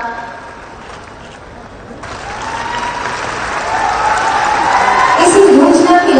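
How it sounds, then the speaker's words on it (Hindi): Audience applause at a state foundation day event where the chief minister made announcements, starting faint and swelling into loud, sustained clapping with some cheering toward the end. "तालियों आप सबकी तरफ से होनी चाहिए"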